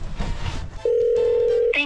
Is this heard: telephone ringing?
yes